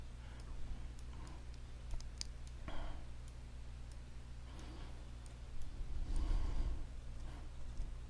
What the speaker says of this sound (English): I'm just using the left and right bracket keys.